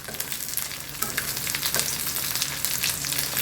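Fish frying crisp in a pan, a dense, loud, continuous sizzle with crackling spatters and occasional spatula scrapes.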